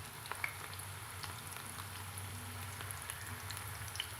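Plantain pieces fry in oil over medium heat, giving a soft, steady sizzle with scattered small pops over a low background hum.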